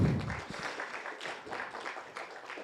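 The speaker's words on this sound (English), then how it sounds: "Round of applause." Scattered applause from a small audience at a Python meetup after a talk, a brief patter of clapping of moderate level with no voices over it.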